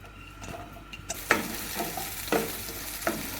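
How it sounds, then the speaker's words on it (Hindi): Chopped onion fries in preheated cooking oil over a high flame, a steady close sizzle broken by several crackling bursts and stirring scrapes, with no voices. "3 मिनट्स के लिए हम अनियंस को हाई फ्लेम पर फ्राई करेंगे।"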